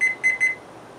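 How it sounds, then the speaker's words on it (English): A cooking thermometer alarm, used while roasting a chuck roast with coffee, gives three short, clear electronic beeps in quick succession and then falls quiet. "So what I want to do, I'm going to set my alarm"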